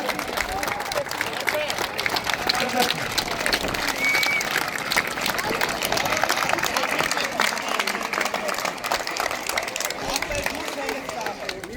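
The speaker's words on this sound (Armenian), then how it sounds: "Այո, բարձր ծափարենք Դավիթին։" Audience at a record-setting event for a nine-year-old boy applauding steadily and loudly for the full stretch, a dense wash of many hands clapping with some cheering mixed in.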